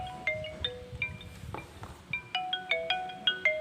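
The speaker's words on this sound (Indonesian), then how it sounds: "Oke, lanjut, ada telepon." A phone's electronic ringtone for an incoming call plays as a melodic sequence of bright, bell-like tones, repeating faster and louder toward the end, with no talking.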